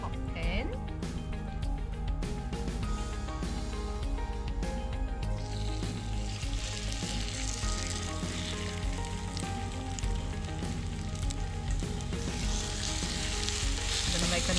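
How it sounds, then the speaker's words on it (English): Kimchi pancake batter sizzles steadily in a hot cast iron pan, a dense, even frying hiss that runs throughout with tonal background music underneath. "So my mixture is ready to go on a hot pan."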